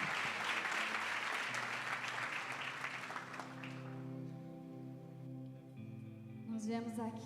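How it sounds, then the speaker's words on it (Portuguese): A church congregation applauds during a worship service, with loud sustained clapping that fades after a few seconds as organ or keyboard tones and a voice carry on. "Você pode louvar o Senhor mais uma vez com as suas palmas"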